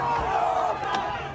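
Chaotic crowd at an anti-Iran protest in Westwood, a loud mass of shouting voices blending into a steady roar with brief sharper cries rising above it.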